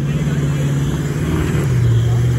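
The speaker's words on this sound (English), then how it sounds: "now the V8, the 200 series, is going to have a crack" A Toyota 200 series V8 4WD grinds up a wet, rocky bush track at Toolangi with a low, steady engine drone that rises near the end. Voices can be faintly heard over it.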